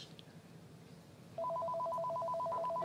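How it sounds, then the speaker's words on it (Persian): A telephone begins ringing with a repeating electronic trill, clear and steady over a faint background hum. "تلفن باهاتون کار داره"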